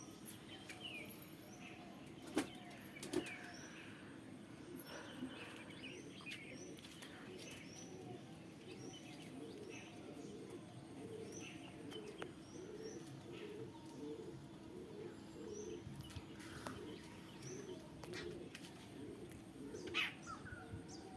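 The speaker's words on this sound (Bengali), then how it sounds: "এই যে হচ্ছে আমার বাড়ির পায়রা উঠছে, ম্যাড্রাস পায়রা, সব ম্যাড্রাস আছে" Madras pigeons from a home flock of about 25 to 30 birds coo in a steady, repeated rhythm close by, with scattered chirps over a constant outdoor background.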